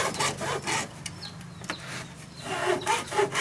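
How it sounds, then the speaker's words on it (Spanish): A fret saw cuts through a thin piece of plywood in a carpentry project, its rasping strokes repeating steadily and close up with no talk. "Vamos a hacer uso de una segueta para, como es una pieza delgada de triply."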